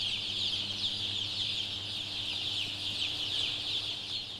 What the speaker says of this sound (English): Chickens are by nature social, curious, and intelligent animals.